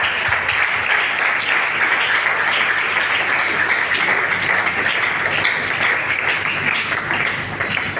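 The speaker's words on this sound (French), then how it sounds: "comme la communauté paroissiale vous accueille par des applaudissements très nourris" Warm, sustained applause from a parish community during Mass at a sanctuary, a dense wash of many hands clapping together, loud and continuous throughout.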